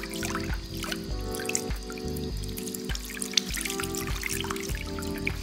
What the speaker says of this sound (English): So I'm washing it, as you see, one by one.